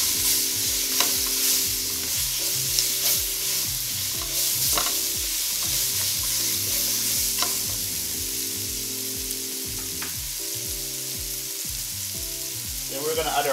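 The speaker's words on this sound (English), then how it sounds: "Gonna stir this around a bit." Jamaican curry rundown fish gets stirred in a pot, with a steady simmering sizzle and repeated close scraping and knocking of the spoon against the pot, no speech heard.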